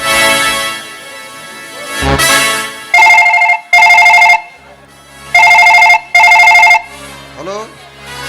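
A telephone rings during a phone call in a Kannada social stage drama, coming in two loud double-ring bursts separated by a short pause, with voices before the ringing.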